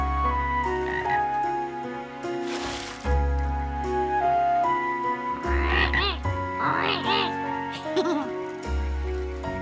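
A cartoon frog croaks at a pond in the woods, sending out loud, deep, repeated croaks over playful background music, with vocal-like sounds in the middle stretch.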